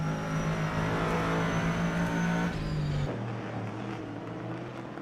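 GT3 race cars, including BMWs and Corvettes, roar around the Nürburgring Nordschleife in a 2021 sim racing series, a steady loud engine drone that shifts pitch as a car changes gear partway through.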